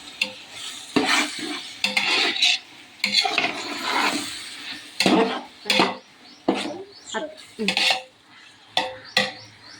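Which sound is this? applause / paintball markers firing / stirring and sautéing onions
stirring and sautéing onions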